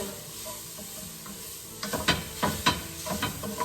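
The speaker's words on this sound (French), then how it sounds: "je vais juste continuer à bien mélanger mes épices dans ma viande" Ground meat with spices sizzles in a pan for a deconstructed lasagne, a steady frying hiss that is soon joined by several close, scraping stirs of a utensil.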